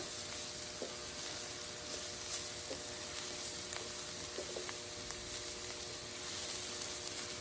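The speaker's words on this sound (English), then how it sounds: "Now we're going to add our garlic. Give that a little stir." Chopped garlic sizzling in hot oil with jalapenos for chile rellenos, a faint steady frying hiss broken by light intermittent scrapes as the pan is stirred.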